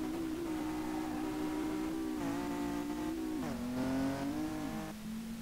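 Tuned BMW M5 Touring engine in the racing game Street Legal Racing Redline, revving steadily with the pitch climbing and dropping through several gear-like shifts, loud and continuous with no talk.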